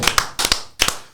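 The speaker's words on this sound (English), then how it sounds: "Round of applause." A few people on a podcast clap their hands in a short, sparse burst of about three distinct clap clusters, close and fairly loud with no talk.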